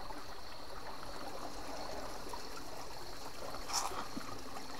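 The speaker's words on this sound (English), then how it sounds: "Nice big waterfall." A big waterfall in a rainforest gully gives a steady, faint, distant rushing wash of water, constant throughout with a brief brighter splash or knock near the end.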